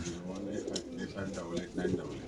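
Pigeons in a loft keep up low, rolling coos at moderate volume, with background chatter from people nearby.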